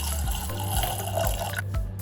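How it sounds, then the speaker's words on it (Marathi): Water pours into a pot of soaked chickpeas, a steady close splashing and trickling stream with faint drips, continuous for about two seconds with no talk. "आता यामध्ये बुडे इतपत पाणी टाकायचं."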